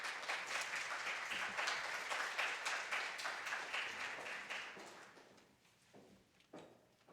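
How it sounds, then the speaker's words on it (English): Audience applause for a keynote speaker at a healthy-aging conference, steady dense clapping that tapers off after about five seconds into scattered claps and near silence. "Judith Phillips, round of applause"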